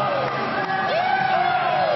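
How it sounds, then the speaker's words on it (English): A crowd at a wrestling event in Springfield's Regional Sports Center roars and whoops steadily throughout, with a commentator talking over it. "tremendous crowd on hand"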